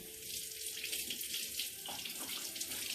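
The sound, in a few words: washing lemons under running tap water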